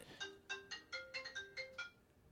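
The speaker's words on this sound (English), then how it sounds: "So we'll let Mike run over to the phone real quick and see what happens." A telephone rings with a repeating electronic ringtone, about eight bright chirping pulses in quick rhythmic succession, fairly faint and alone.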